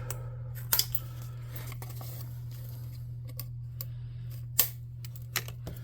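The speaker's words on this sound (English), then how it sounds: "Okay, let's snip those off." Scissors snip pieces off a craft piece for a tabletop game church model, a few sharp, isolated cuts spaced apart against a quiet room with a steady low hum.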